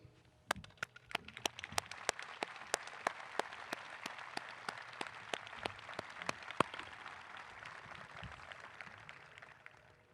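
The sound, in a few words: audience applauding graduates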